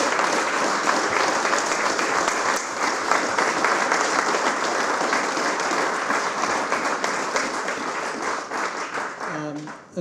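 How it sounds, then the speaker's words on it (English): A large audience at a civic celebration marking fifty years of Whistler's municipality gives warm, sustained applause, loud and dense throughout before tapering off at the end. "Please give a real warm applause to those people."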